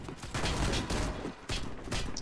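Gunfire from a Winchester 1887 shotgun in the video game Warface: several loud, sharp blasts in quick succession, about four bursts close together.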